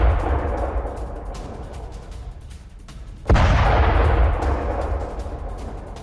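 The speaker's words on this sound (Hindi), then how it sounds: "एक के बाद एक धमाके यहां पर किए गए" Low rumbling background broken by one sudden, loud blast from a drone attack, followed by a sustained roar of noise as it fades slowly.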